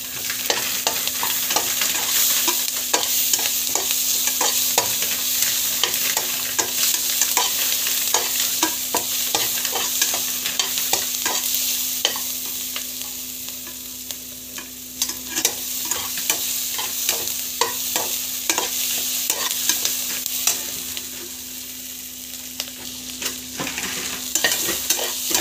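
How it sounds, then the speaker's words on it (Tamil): Bay leaf sautéing in oil in a pan for biryani, a steady close sizzle with frequent scraping stirs of a spoon against the pan, continuous throughout with no talking. "பிரியாணி இலை, நல்லா வந்து வதக்கிக்கோங்க."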